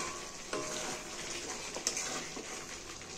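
Chicken and potatoes being stir-fried in a pan for chicken kosha, a quiet continuous sizzle with a few clinks and scrapes of the spatula, close up and with no talking.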